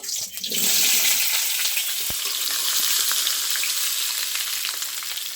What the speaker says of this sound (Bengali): একই তেলের মধ্যে আলুগুলো আমি ভেজে নেব।